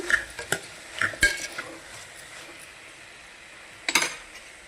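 Coriander stirred into fried ridge gourd pieces and chana dal in a cooker pot, with a soft sizzle under several sharp clinks and scrapes of a ladle against the metal, coming in bursts with a pause in the middle.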